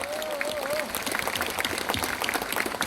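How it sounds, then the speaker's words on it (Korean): Audience applause at a Korean legislator's constituency report meeting: dense, steady clapping fills the clip, with a brief whistle-like tone early on and voices mixed into the crowd noise. "정말 다시 한번 뜨거운 박수 한번 부탁합니다"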